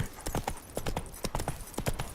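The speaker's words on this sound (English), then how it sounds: "Run, Roach" Roach, the horse in The Witcher 3, gallops with quick, sharp clip-clop hoofbeats, close and loud, about a dozen strikes in an uneven running rhythm with nothing else over them.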